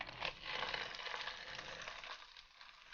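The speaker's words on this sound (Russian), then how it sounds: "Жарим бифштекс по 3 минуты." Beef steak patty of chopped beef frying in hot oil in a pan, a steady close crackling sizzle throughout that eases slightly toward the end.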